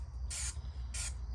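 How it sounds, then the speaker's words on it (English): Two short bursts from an aerosol spray can coating the fabric mouth of a handmade Snoof puppet in a workshop, each hiss lasting about a quarter second, close and crisp over a steady low hum. "don't forget to spray the fabric mouth as well"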